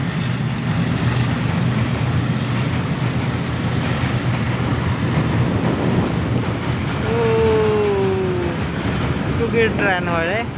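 Train crossing near the Naranarayan bridge in Goalpara, a loud steady rumble and roar of rolling cars throughout, with whistling tonal squeals toward the end and no clear talk over it.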